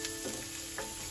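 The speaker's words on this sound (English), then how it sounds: "So we'll begin the frying process with oil," Onions and garlic fry in oil with salt for coconut fried rice, giving a steady close sizzle with a couple of brief stirring scrapes.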